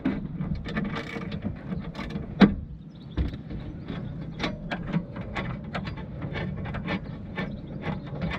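Ratchet with a 13mm socket turning bolts on a 2005-or-later Volvo P2 (V70, S60, S80, XC70, XC90) during steering angle sensor replacement; quick mechanical clicking and ratcheting runs steadily throughout, close and moderately loud, with a sharp knock midway.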